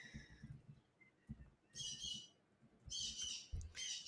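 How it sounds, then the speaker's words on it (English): A parrot screeches from another room, faint and distant, with several harsh high squawks in bursts over low room noise and soft bumps. "My parrot is screeching at me from the other room"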